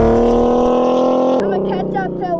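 Yamaha R6 sport motorcycle engine held at high steady revs, then dropping sharply and surging in short uneven blips, close and loud, with a rider learning to ride.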